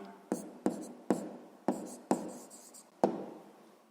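A pen writes an answer by hand on paper, giving six or seven crisp scratchy strokes, each starting with a sharp tap and trailing off, close and quiet with no talk.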